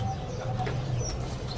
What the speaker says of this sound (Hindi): हाँ, ये चपड़ी कबूतरी है।